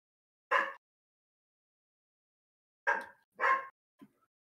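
Dogs give a few sharp, close barks: a single bark, a pause, then two quick barks and a small yip in an otherwise quiet room.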